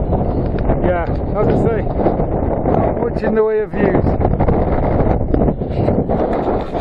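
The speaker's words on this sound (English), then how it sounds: "Sorry about the wind." Gusty wind buffets the microphone with a steady low rumble at the trig point on the summit of Blencathra, while someone talks over it.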